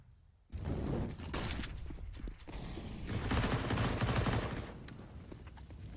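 P90 submachine gun fire in a Counter-Strike match on the Overpass map, a dense burst of rapid gunfire and impacts that holds loud for several seconds after a sudden start.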